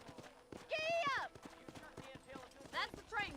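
Horse hooves beat a steady, quick clip-clop on the ground in the Red Dead Redemption video game, with a brief whinny-like call rising over the hoofbeats and a voice heard among them.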